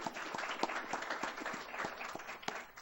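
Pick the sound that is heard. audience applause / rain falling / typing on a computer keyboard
audience applause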